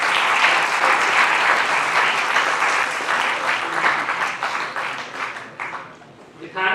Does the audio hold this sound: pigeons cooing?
no